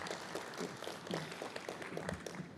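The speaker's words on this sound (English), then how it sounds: "Let's give him a big round of applause." Audience applause at a climate action conference, a brief burst of clapping of moderate loudness that stays fairly even, with faint voices underneath.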